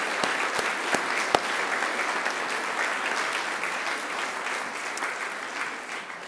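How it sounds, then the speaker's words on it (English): A graduation audience at Macquarie University applauds in a large hall, with sustained, even clapping from a big crowd and a few louder individual claps near the start. "give yourselves a resounding round of applause because you deserve it"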